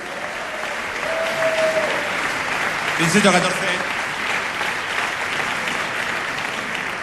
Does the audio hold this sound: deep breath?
no